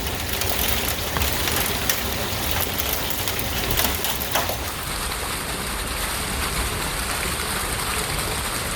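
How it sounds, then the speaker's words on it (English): Pea-size hail falling in a steady, dense patter, loud and close, continuing throughout with no talk. "Now we're getting our first hailstorm."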